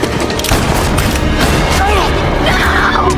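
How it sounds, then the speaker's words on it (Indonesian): Gunfire in a western film rings out amid a loud, dense scene, with booming shots and rattling impacts layered over voices and music. "pun berhasil menembak Carlton Briggs setelah ia membunuh si Abah"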